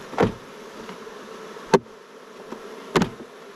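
Honey bees buzz around a hive during a beekeeping inspection, with small hive beetles present. Close, brief buzzing bursts come as a few separate passes over a quiet background.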